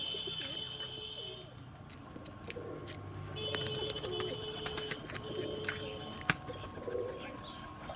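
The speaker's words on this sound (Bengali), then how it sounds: "এই দেখেন একটা সবুজ পায়রা।" Pigeons at a Bengali pigeon sale, among them a green pigeon, give soft low coos and scattered calls against an outdoor background, with brief sharp knocks and occasional distant traffic.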